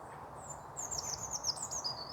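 Small birds call from dense, overgrown shrubbery nearby, a few thin high chirps and short trills over a quiet outdoor background.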